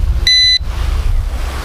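A short electronic beep from an FQ777 F8 GPS drone, a bright multi-tone chirp lasting about a third of a second, rises over a low rumbling background.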